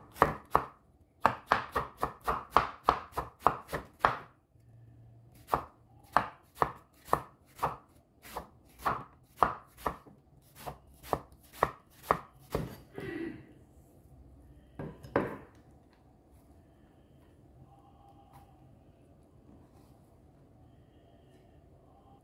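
A knife chops ingredients thinly on a cutting board for a beef dish, making rapid, crisp, evenly spaced thuds in bursts. The chopping stops, followed by a couple of softer handling clunks and near silence.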